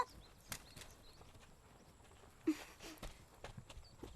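A horse pulling a cart clops along at a walk, with scattered hoof strikes, a few louder knocks and light rattling against a quiet outdoor background.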